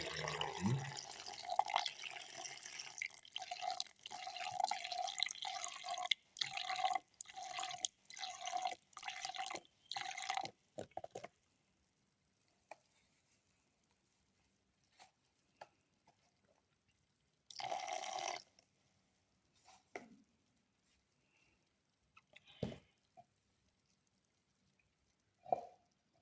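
Milk, 300 ml, pours into a blender for a strawberry milk carrot smoothie. A gurgling, splashing stream runs for about ten seconds, then scattered drips and a brief splash break long quiet stretches.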